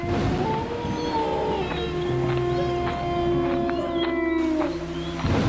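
A dog howls in long, wavering drawn-out cries over a constant hiss of steady rain, the howl rising and falling several times.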